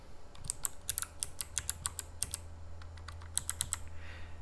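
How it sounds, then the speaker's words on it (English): Close, crisp clacks of Logitech G915 mechanical keyboard keys with GL switches typed in quick uneven bursts, with a short pause midway and a low background hum. "I have the microphone very close to the keyboard so you can get a better feel for the sound."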